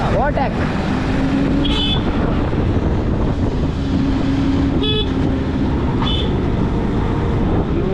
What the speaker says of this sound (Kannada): ಇಂಥ ಚಿಕ್ಕ ರೋಡಲ್ಲಿ ಬಸ್ ಬಂದಿದೆ ಅಲ್ವಾ